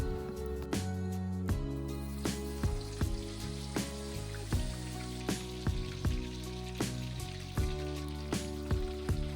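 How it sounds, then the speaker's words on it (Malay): Hot oil frying fish with a steady sizzle, punctuated by regular sharp crackles and pops, alongside a faint constant background hum. "panaskan minyak, goreng ikan ni sehingga masak"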